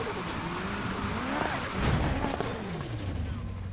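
A McLaren 570S Spyder drifts in Need For Speed Heat, its tires squealing in wavering, sliding tones over a steady engine drone, building to a louder skid midway before easing off.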